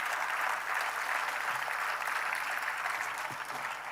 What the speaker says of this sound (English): all of them deserve a big round of applause from all of us